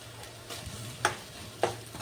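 Masala spices fry quietly in a pan on low heat while chicken fried rice is being made, giving a soft, steady sizzle broken by two brief clinks of a spoon against the pan.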